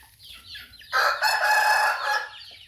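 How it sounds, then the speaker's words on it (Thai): A Burmese gamecock rooster crows loudly and close by, one long drawn-out call, with faint clucking before it. "สายักษ์สวยๆ เป็นไก่ก่อยง่อนนะครับ"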